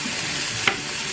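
Spanish rice frying slowly in a little oil in a pan, with a steady soft sizzle throughout and one brief scrape of a spoon stirring it near the end.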